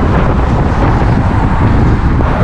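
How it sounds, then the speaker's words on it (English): Strong wind buffets the microphone during a road ride near Barcelona, a dense, steady low roar filling the whole stretch with no break, loud and close. "it's fucking windy as hell"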